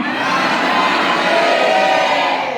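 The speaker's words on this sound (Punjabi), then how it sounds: "ਸਾਰੇ ਦਬ ਕੇ ਜੈਕਾਰਾ ਮਾਰ ਲੈ ਜੈਕਾਰਾ ਵੀਰ ਬਜਰੰਗੀ" A large crowd shouts a loud, sustained jaikara chant at a ceremony, a dense wall of raised voices that holds steady and close without a break.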